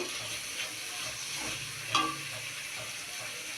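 Katla fish head and rice sizzle quietly in a pan while being stirred, a soft continuous frying hiss with faint scraping and one brief clink of the utensil.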